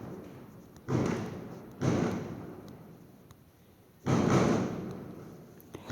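Three muffled booms of firecrackers outside at uneven intervals, each one a dull thump trailing into a fading rumble.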